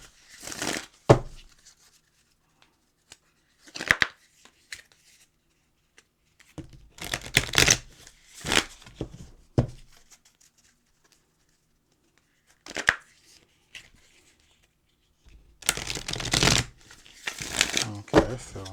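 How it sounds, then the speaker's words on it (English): Moonology oracle cards are shuffled by hand in several short, crisp riffling bursts separated by quiet gaps, close up, with occasional speech between them. "Give these cards a good shuffle."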